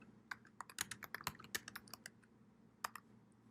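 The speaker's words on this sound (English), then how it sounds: "you can type in the citation to the United States Code in the search bar" Quiet, close clicks of a computer keyboard as a legal citation is typed into a search bar, a quick irregular run of keystrokes followed by a pause and one or two final taps.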